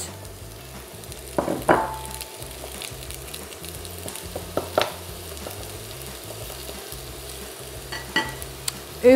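Butternut squash added to hot melted butter and oil in a pan, a steady low sizzle with a few clattering knocks and scrapes of utensils against the pan, close by and without talking.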